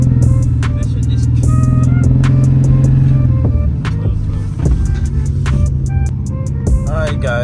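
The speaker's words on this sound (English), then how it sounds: "I'm driving the red E46" A red BMW E46 driving with its engine running, a steady loud interior drone with a low hum that shifts pitch midway, sharp clicks and knocks over the top, heard from inside the car without speech.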